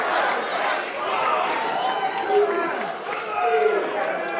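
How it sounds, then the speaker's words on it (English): Pub crowd at a wrestling match roars in a steady, dense wash of cheering and chatter, with voices rising and swelling throughout. "Listen to this crowd."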